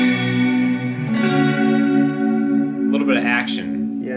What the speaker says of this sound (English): So now we effectively have a chorus pedal.